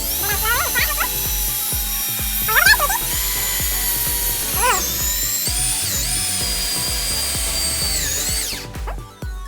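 A power drill whines at high pitch, rising and falling as it bites into a ball, running almost continuously before spinning down at the end.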